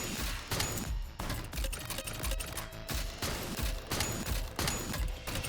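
Rapid gunfire from the rhythm shooter game BPM: Bullets Per Minute, with repeated sharp bursts of shots spread through the clip, loud and close, and no talking.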